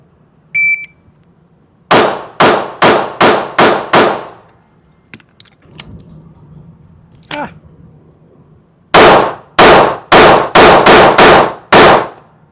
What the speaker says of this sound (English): we're going to shoot, I think there's 6 and 7 bullets in, see how long it takes us to shoot